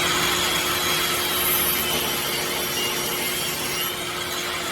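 A saw trims the edge of a laminated wood bowl blank held on a sled, giving a loud, steady, continuous cutting noise for the whole stretch with no talking.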